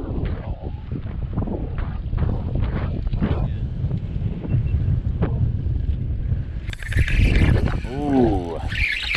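Wind gusts buffet the microphone on a boat out on a lake while fishing for walleye, a rumbling low roar under a man's speech that grows stronger toward the end.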